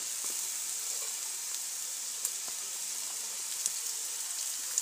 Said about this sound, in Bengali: আলু ভাজা হয়ে গেছে, আমি এবার এতে কিছুটা পেঁয়াজ দিয়ে দিচ্ছি